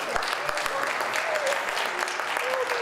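A church congregation claps steadily for members who have written books, a dense continuous wash of applause filling the room, with faint voices and a thin sustained tone underneath.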